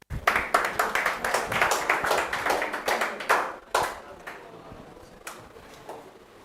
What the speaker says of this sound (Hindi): जोरदार भैया लोकेंद्र के लिए तालियां बजाएंगे।